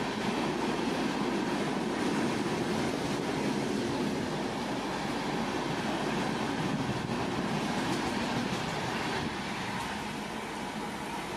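A fast express train from Howrah to Bengaluru SMVT runs past a platform without stopping, a loud continuous roar of rail noise with rushing wagons and wheel clatter, close by and with no talk.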